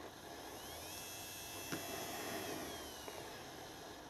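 A small 12 volt gear head motor runs from a speed controller with a steady, even whine and hum, quiet and close, holding constant with only a couple of faint ticks.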